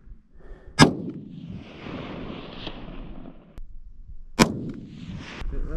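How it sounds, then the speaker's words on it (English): Two loud gunshots fired outdoors at a distant rock, each a sharp crack followed by a long rolling echo, spaced a few seconds apart. "We're shooting at that farthest, biggest rock."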